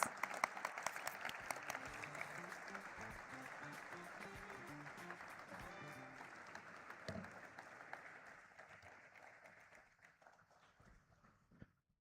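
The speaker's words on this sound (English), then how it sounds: "Can we have a huge round of applause for sir, please?" An audience at the listing ceremony of Turtlemint Fintech Solutions Limited gives a round of applause for the chairperson, steady clapping that thins out and fades toward the end, with faint voices beneath.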